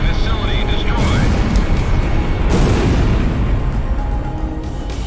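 An enemy facility in Ace Combat Zero blows up with a loud, rolling roar and crackling burst over steady jet engine drone, and a voice talks over the blast.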